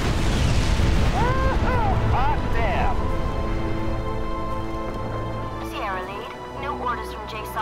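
Bombs detonate in the Crysis Warhead shooter, giving off a heavy, rumbling roar that swells loud at the start and slowly fades, while game voices and radio chatter run over it.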